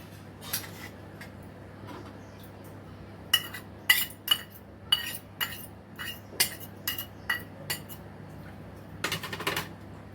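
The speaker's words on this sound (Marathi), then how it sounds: "हे सगळं मिक्स करून घेऊया मी आता दाखवण्यासाठी मोठाच भांड घेतलेला आहे" A spoon clinks and scrapes inside a large pot while fresh turmeric, ginger and amla pickle is mixed, giving a run of sharp, irregular metallic taps, close and fairly quiet, with no talking.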